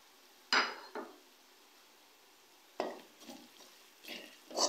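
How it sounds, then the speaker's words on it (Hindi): A spoon stirs and scrapes through bhindi fry in a pan after red chili, turmeric and salt go in, giving a few separate clinks and scrapes against a quiet background. "अच्छे से मिक्स करेंगे"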